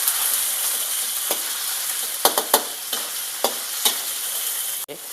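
Chicken pieces frying in a very hot wok with garlic, a steady loud hiss of sizzling oil with scattered clicks and scrapes of a utensil stirring, no voices.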